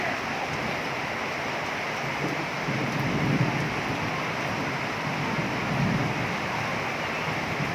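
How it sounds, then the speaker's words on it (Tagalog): Heavy rain pours in a steady, dense broadband hiss, loud and unbroken, with a few faint low swells underneath and no clear voices. "ang lakas ng ulan"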